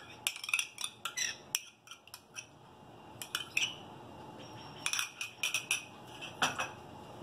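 A utensil clinks and taps against a pan in sharp, irregular bursts while cream is stirred into Alfredo sauce for spaghetti, the strikes close and crisp over a quiet background.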